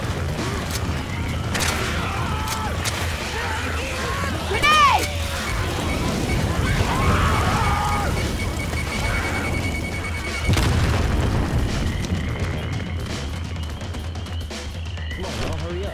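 A grenade goes off in Left 4 Dead 2 amid chaotic fighting, with a dull boom and a later heavy thump under a rumbling mix of game noise and voices.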